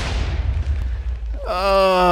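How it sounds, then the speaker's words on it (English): A blocky explosion in the sandbox game Minecraft Sky Factory 2 booms loudly with a broad rumbling burst, followed by a rising tonal in-game sound. "Double explosion."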